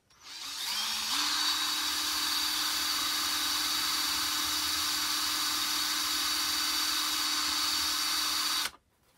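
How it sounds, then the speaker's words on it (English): A power drill bores through a wooden piece of a DIY tiered tray, a steady high whine that spins up, holds for several seconds, then cuts off abruptly. "Drill it through."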